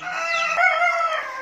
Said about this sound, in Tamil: பாருங்கள், கோழி அங்கே அந்த ரூமில் இருக்குது.